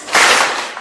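A seminar crowd claps once in unison, one sharp loud group smack that rings on for a fraction of a second before tapering off, with no speech.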